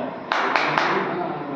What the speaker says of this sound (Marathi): बघा दुसरी टाळी सुंदर